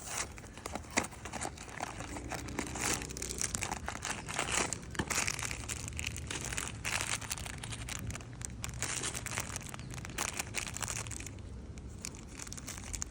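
Blokees Ultraman toy packaging being unboxed, plastic wrapper crinkling and crackling nearly nonstop, close and fairly loud, with irregular bursts of rustling and tearing and no speech.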